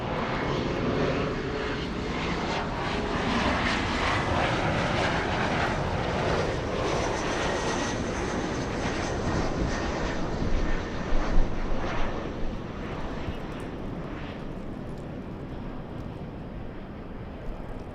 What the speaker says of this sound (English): SkyWest 4911 flying in from Sacramento, California